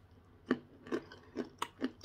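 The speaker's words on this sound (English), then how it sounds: "You know what I love? Is the crunch." A crunchy snack being chewed close up, with five distinct crisp crunches at a steady rhythm, each a short sharp burst, and no talking.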